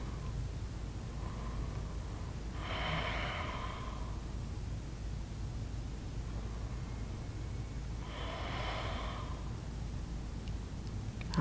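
Slow, calm breaths during a beginner yoga hold, two long soft airy exhalations several seconds apart over a quiet steady room hiss.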